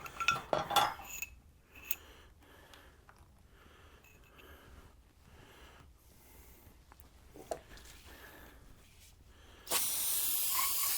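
A long, steady hiss of aerosol chemical spray starts near the end and continues loudly, after quieter clattering and clinking sounds earlier on, during motorcycle fork seal work.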